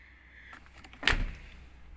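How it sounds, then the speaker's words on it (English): A rear door of a 1998 EL Falcon clunks open once, a short close metallic knock with a faint scrape, alone in quiet surroundings. "I'll open up the rear door if I can"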